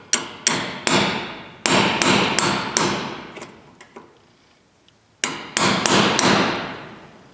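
Hammer blows while fitting a meter socket ring out in quick bursts of three or four sharp, close strikes, each ringing briefly, separated by short pauses and a few lighter taps.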